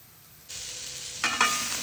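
Cut boiled eggs, salt and pepper powder are tossed into onions in a hot pan, a sudden loud sizzle jumping in after near-silence, then a couple of scraping stirs swelling the frying hiss up close.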